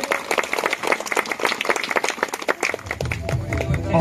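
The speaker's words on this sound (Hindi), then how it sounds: "ताली बजाइए जोर से" A crowd at a village gathering in Chhattisgarh claps loudly and steadily, a dense patter of hands that continues throughout, with a voice speaking faintly over it near the end.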